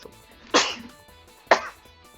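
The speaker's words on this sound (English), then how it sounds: "Sneezed." Two sharp sneezes about a second apart, close and fairly loud, each a sudden burst that trails off quickly into near quiet.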